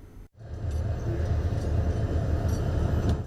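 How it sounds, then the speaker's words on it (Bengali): A train pulls out of a railway station, a steady low rumble of wheels and carriages rolling continuously after a brief pause at the start. "স্টেশন ছেড়ে যাচ্ছে ট্রেন"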